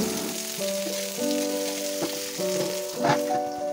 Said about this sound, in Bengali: এবার বেশ কয়েকবার এপিট ওপিট করে ভালোভাবে ভেজে নেব